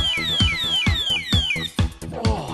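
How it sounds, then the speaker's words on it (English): An alarm padlock shrieks nearby, sounding loud, repeated descending electronic whoops in a fast, regular pulse that stays piercing and continuous. "If you want it with the alarm on, there it is."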